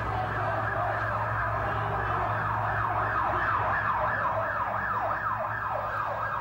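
An ambulance siren wails in a repeated two-tone sweep, then shifts to a faster yelp, heard at moderate distance over steady low traffic rumble, with no talking.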